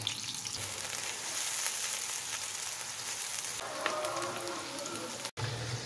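Onions and chicken frying for chicken karahi, a dense continuous sizzle like steady rain that holds throughout, with a brief clatter of stirring near the end before it cuts off.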